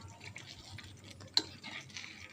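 A spoon scrapes and stirs through curry in a pot after tamarind water has been added, soft wet swishing with one sharp metallic clink partway through, quiet and close, with no talk.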